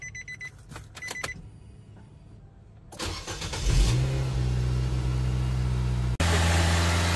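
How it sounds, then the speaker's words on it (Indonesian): A Nissan Grand Livina engine starts, then revs up hard and holds a loud, steady roar, with a brief dip before surging again. "Kita lakukan pengegasan."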